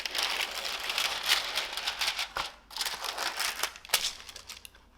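Plastic film is peeled off a microwaved Swedish meatball ready meal, close and loud crinkling and crackling in ragged bursts with brief pauses and a sharp snap near the end, no voices.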